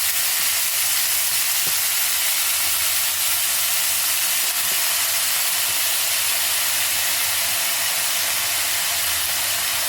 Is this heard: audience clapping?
no